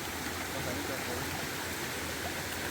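A clear forest stream flows in a continuous, even rush of water, close and fairly loud with no breaks.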